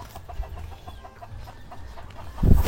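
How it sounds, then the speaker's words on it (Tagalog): Chickens cluck in short repeated calls around a farmyard feeding, with a louder burst near the end. "Itong manok yung napakain na ito?"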